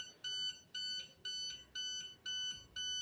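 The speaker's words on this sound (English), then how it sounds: "once the threat is confirmed, we will get notification locally on this IoT Opla IoT kit" An Opla IoT kit sounds a threat-alert alarm: six evenly spaced electronic beeps, each about a quarter second long, in a steady rhythm, clear and alone with no talk.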